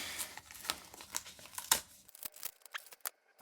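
Tape and paper wrapping on a taped book parcel are torn and crinkled open from the bottom, a quick run of close, crackly rips and rustles that thin out into a few last tugs, no voices.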